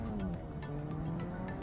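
A car in Fortnite with a crash pad drives with its tyres squealing, a faint whining hum of engine and rubber heard for a moment with no voices.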